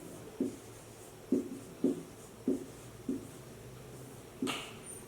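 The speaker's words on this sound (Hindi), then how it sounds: "यहां लिख रहे हैं वीरः" Pen writing a lesson answer on paper, a series of short soft taps and strokes spaced unevenly, close and quiet, ending with a brief scratchier stroke.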